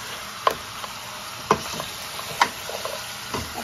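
Beef rezala being stirred in a pan, several distinct spoon knocks and scrapes against the pan at irregular intervals over a quiet, low sizzle.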